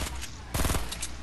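Gunfire in a Fortnite match at Tilted Towers, a quick rattling burst of shots mid-distance in the game mix, brief and punchy over background noise.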